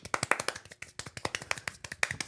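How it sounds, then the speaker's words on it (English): Rapid hand clapping by one person, a quick run of sharp, close claps in a fast steady rhythm with brief pauses, in a casual indoor podcast setting. "I can clap super fast"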